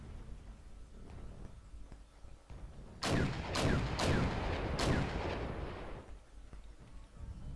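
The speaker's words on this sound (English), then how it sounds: "They're mostly focusing on counter-artillery fire and also to destroy enemy FOBs." Artillery in the Wargame: Red Dragon strategy game fires in a run of four or five loud, sharp booms spaced about half a second apart, each with a rolling tail, over a low background rumble.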